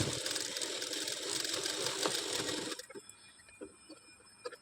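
An electric sewing machine running steadily, stitching around the edge of a blouse back neck design, then stopping and leaving a few soft clicks and handling noises.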